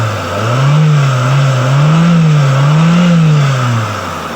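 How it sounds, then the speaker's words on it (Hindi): A Mitsubishi Lancer's 4G15 engine runs after a full overhaul, loud and close, with a steady hum that swells and dips gently in pitch as it is lightly revved, and no voices. "ये इसका इंजन का साउंड सुनाते हैं आपको"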